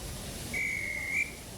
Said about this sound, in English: Just then, the guard's whistle blew, and the two engines set off.